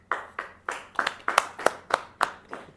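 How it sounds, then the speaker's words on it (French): A small audience at a formal ceremony claps in a short, evenly spaced series of distinct hand claps, close and moderately loud, ending after a few seconds. "Applaudissez."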